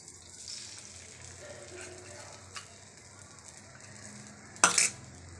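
In a home kitchen, an onion omelette cooks in a pan, with a soft low sizzle, light utensil stirring and a sharp metallic scrape against the pan near the end.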